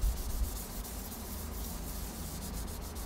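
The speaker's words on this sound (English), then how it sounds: "After we sand it, polish it" Sanding of a varnished violin surface between varnish coats, a soft, steady rubbing hiss that continues evenly at close range with no voices.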